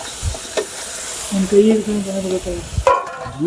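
Wild forest pork sizzling and frying in a pan at a family feast, a steady hiss under stirring noises, with a voice talking nearby over the cooking.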